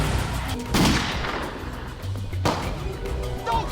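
Gunfire in a scene from the TV series Dexter, season 1 episode 9 "Father Knows Best", with a few loud, heavy booming shots that ring out over continuous background sound, close and prominent.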